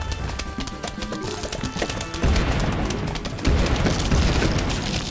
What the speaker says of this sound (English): All these explosions, it's like a fireworks display.